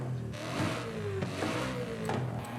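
A 4-liter V8 car engine in the video game Forza Horizon 5 revs up and down in repeated rising pulls, a smooth mid-pitched engine roar that climbs and drops, with no talking.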